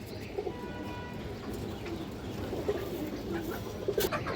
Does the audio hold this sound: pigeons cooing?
yes